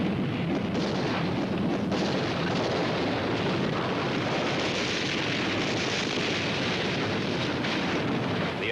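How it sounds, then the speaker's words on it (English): A massive World War I artillery barrage supporting a German spring offensive, heard as a dense, continuous roar of overlapping distant blasts and rumble, loud and steady throughout with no talk. "200 German divisions move forward under cover of a massive artillery barrage"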